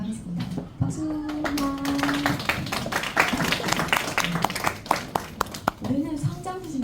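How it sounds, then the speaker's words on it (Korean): A church youth group congregation claps for honored teachers, with scattered, irregular hand claps building into applause, mixed with voices talking and children's chatter close by. "박수!"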